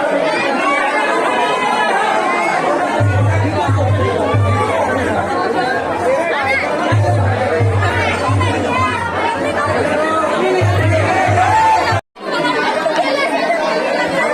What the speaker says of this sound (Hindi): देखिए मंदिर के अंदर की भीड़